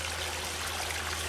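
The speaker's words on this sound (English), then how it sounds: "it's a completely different sound to the pre-formed waterfall" Water from a garden waterfall kit runs over rocks in a UK garden, a steady close babbling splash under a low pump hum, brief and continuous.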